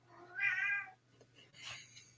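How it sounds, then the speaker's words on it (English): A pet cat meows twice indoors, a clear drawn-out meow followed after a short pause by a shorter, higher one, close and moderately loud over a low steady hum, with no talk. "Did you hear him? He's like, meow, meow."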